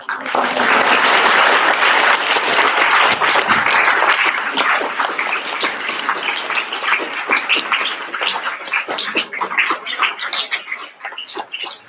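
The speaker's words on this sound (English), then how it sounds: "give our guests one final round of applause" Loud, sustained applause from a crowd at an art installation opening, dense clapping that gradually thins into scattered individual claps toward the end.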